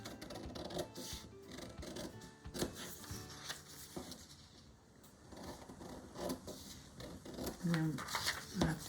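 Scissors cutting through a fabric shirt piece for an 18-inch doll's western shirt, giving soft snipping and rasping strokes close by with a steady rhythm and brief pauses, under quiet background movement.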